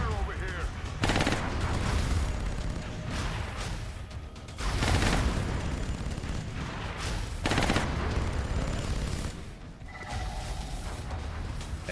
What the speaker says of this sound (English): I'm under fire. I'm taking heavy fire over here.